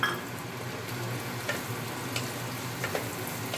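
Onions fry in a hot pan with a steady, close, crackling sizzle and a few faint stirring clicks.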